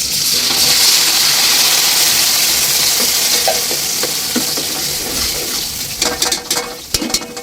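Canned sardines go into a pan of frying onions with a loud, close, steady sizzle, then a few sharp spatula clatters and scrapes as the mixture is stirred near the end.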